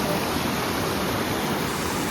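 A small waterfall in Normandy at night: a steady, dense rush of falling water fills the scene evenly, close and unbroken, with no voices.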